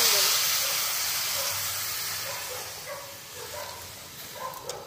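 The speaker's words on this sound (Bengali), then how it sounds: "এবার আমি এখানে যে জলটা মেপে রেখেছিলাম এই জলটা দিয়ে দেবো" Measured water poured into frying rice for Basanti pulao gives a loud broad hiss that slowly fades into bubbling sizzle, with faint background voices and small clinks near the end.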